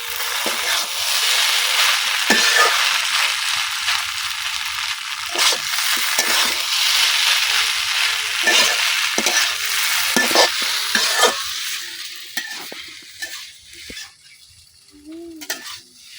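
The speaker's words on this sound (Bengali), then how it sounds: "টমেটো সসটা আমি খুব ভালোভাবে মিশিয়ে দিয়েছি চাউমিনের সাথে" Chow mein noodles seasoned with Maggi masala being stirred with tomato sauce in a sizzling pan in a village kitchen, repeated scraping strokes over a continuous frying hiss, close up.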